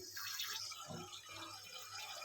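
A toilet flush tank refills with water in a steady, faint hiss and rush that stays even from start to finish, heard from nearby in a quiet room.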